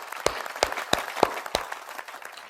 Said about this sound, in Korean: 하나님께 박수로 영광 올려드리도록 하겠습니다.